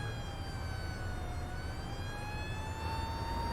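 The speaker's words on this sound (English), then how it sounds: "There was an ambulance. It looked like it was an ambulance behind us." An ambulance siren in the OMSI 2 bus simulator, on a snowy nighttime downtown Chicago route, wails in slow rising and falling sweeps. It sounds moderately distant over a constant low engine rumble, with no talk.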